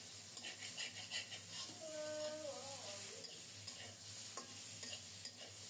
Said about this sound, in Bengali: অল্প তাপে ঢেকে ঢেকে খুব সুন্দর মতো বেগুনটাকে মশলার সাথে কষিয়ে নিচ্ছি